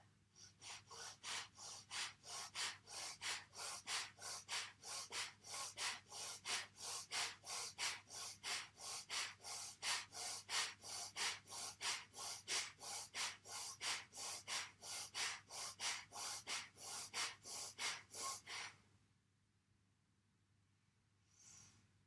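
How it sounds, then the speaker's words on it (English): Forceful rhythmic breath-of-fire breathing during a kundalini yoga breath hold, rapid steady pumping exhalations close to the mic for about eighteen seconds, then stopping into near silence. "instead of maintaining your natural breath, this time doing a powerful breath"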